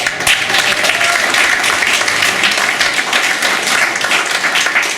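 A crowd applauds steadily, dense and loud clapping sustained from start to finish with no pause.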